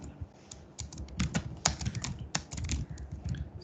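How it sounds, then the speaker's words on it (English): A computer keyboard is typed on steadily, crisp close-up key clicks in quick irregular runs with brief pauses, heard alone without talk. "Here also I am typing something."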